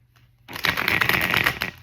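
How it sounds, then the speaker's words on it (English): Tarot cards shuffled by hand in a quick, steady riffling burst lasting over a second, close and fairly loud after a brief quiet start. "Let's do one more shuffle"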